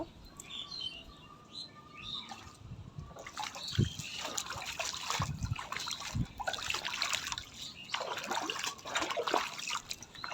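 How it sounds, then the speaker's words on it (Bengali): Footsteps wade and splash through clear, cold rainwater pooled on a rooftop after days of continuous rain, with steady soft splashing and trickling throughout and birds chirping in the background. "এই পানিতে হাঁটতে খুব ভালো লাগতেছে"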